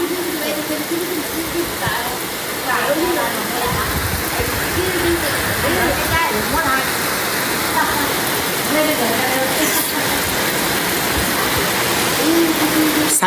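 Heavy rain pours down after Storm No. 6 in Quang Binh, central Vietnam: a loud, steady, dense wash of water drumming on surfaces, continuous for the whole stretch, with a voice occasionally talking over it.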